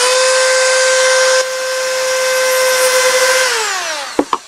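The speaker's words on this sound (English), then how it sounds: "Now we're going to cut off the end of this coarse" A whiz wheel cutoff tool slices off the end of a coarse screw, a loud, high, steady screaming whine that winds down near the end, followed by two sharp clacks.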